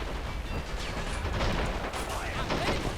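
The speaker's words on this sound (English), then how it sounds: "Alright, artillery's getting ready to fire." Artillery fires in the World War II strategy game Men of War: Assault Squad 2, a dense, continuous rumble of booms and gunfire with a voice talking over it.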